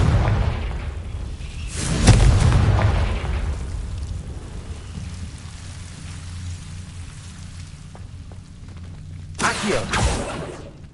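A Confringo blast curse cast in Hogwarts Legacy, a loud broadband boom with rumbling decay near the start, and a second sharp burst near the end; no talk.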